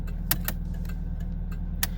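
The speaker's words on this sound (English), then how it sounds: "That's your blinker." The turn signal blinker in a 1986 Pontiac Fiero gives off sharp, evenly spaced clicks inside the cabin, heard close over a steady low engine hum.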